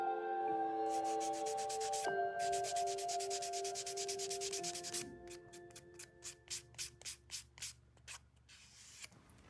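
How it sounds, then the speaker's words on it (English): An edge beveler shaves the edges of a handmade leather money clip: quiet, close scraping strokes, first in quick continuous runs, then slower distinct pulls, over a faint steady tonal background. "I bevel the edges on all sides of the clip."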